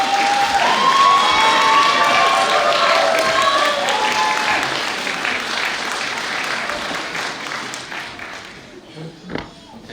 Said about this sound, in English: Please turn to your family and friends and give them a round of applause.